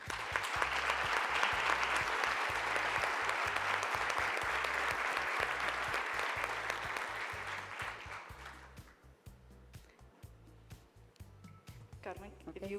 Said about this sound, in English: So a big applause, please,